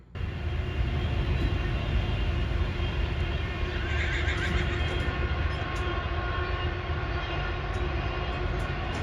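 Horses neighing on a farm as they are moved between pastures: a wavering whinny rises briefly midway through a dense, steady wash of broadband noise, with no talking.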